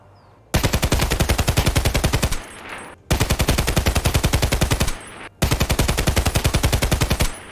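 SA58 rifle on full auto in the video game Escape from Tarkov, three long loud bursts of rapid evenly spaced shots with short pauses between them.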